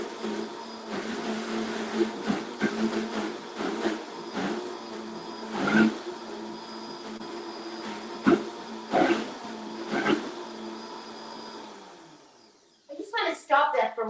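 A Vitamix blender runs steadily with a dense motor whine and churning rumble, the pitch wavering as thick contents shift, then cuts out near the end before some brief clattering.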